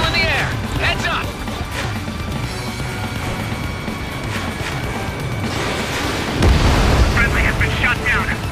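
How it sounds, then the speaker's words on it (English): Missile explosions and booming blasts in the air-combat video game Ace Combat 7, a dense rumbling battle mix with a heavy low burst near the end, under game radio chatter. "Missile in the air."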